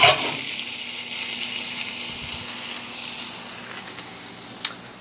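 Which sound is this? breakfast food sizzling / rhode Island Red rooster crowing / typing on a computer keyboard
breakfast food sizzling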